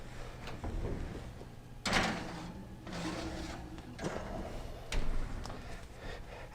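An oven door in a home kitchen opens and shuts amid a few clunks and scrapes, with a sharper thump near the middle and another toward the end, fairly faint overall.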